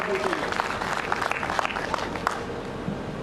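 Audience applause at a grand poetry symposium honouring Maharana Pratap in Gogunda, a dense, steady wash of clapping from a large crowd, with a voice faintly over it.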